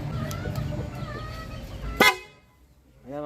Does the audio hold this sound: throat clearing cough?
no